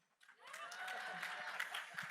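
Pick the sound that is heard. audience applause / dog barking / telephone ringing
audience applause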